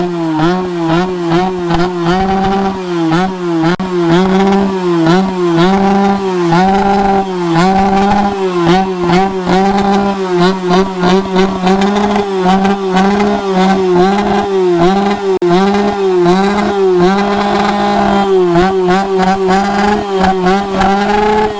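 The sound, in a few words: loud Yamaha RX motorcycle revving in loudest bike contest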